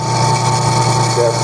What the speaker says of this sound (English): get my drill press going, and now just make a straight hole